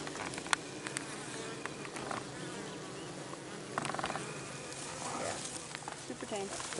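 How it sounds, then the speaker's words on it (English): Italian honey bees buzz around backyard hives, a dense, steady hum with individual bees passing close, while people talk nearby. "These are these are Italian bees, and they're super chill."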